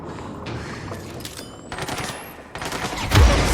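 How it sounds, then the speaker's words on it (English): Video game gunfire in loud, rapid bursts of automatic fire mixed with mechanical clatter and a rising whine, close and dense, with no talking. "What is shooting me?"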